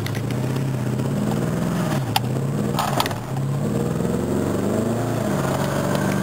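A Jaguar car driving through a corner on a wet road, a steady loud engine drone with shifting pitch as it turns, road and tyre noise throughout and a couple of brief knocks partway through.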